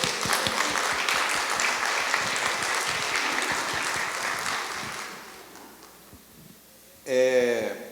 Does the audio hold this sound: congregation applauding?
yes